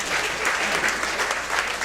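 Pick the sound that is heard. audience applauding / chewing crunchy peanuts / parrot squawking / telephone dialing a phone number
audience applauding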